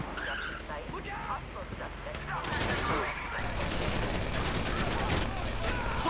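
Gunfire erupts in a shootout during the Paleto Score heist in the video game GTA 5, bursts of rapid shots building into a loud, dense barrage after a quieter opening with voices and engine noise.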